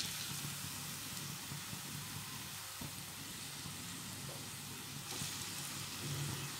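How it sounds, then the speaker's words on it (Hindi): Carrots frying in ghee for gajar ka halwa make a soft, even sizzle and hiss with occasional light stirring, faint and close, without talking. "अब इसे मैं फ्राई कर लूँगी।"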